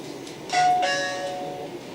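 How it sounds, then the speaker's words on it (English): A wireless WiFi video doorbell with PIR camera rings once, a clear two-tone electronic chime sounding close and alone over faint room hiss. "So now someone press your doorbell from outside your house."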